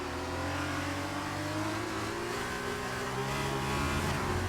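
A race car engine revs and drones steadily in a racing event at a Great Britain circuit, a continuous mid-pitched engine note with shifting tones, moderately loud throughout with no talk.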